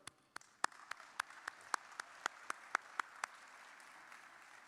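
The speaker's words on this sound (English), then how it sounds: "this is the part where we clap a lot" Steady, evenly spaced hand claps, about a dozen distinct sharp claps from a small number of people, fairly faint and moderately close, offered at a dinner gala to recognize foundation board members.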